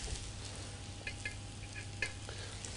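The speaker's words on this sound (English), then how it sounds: "I'm just going to pop a handful of each mushroom into the pan all at the same time." Handful of mushrooms hitting hot oil in a pan, a soft continuous sizzle with a low steady hum beneath and a few brief crackling pops, no talking.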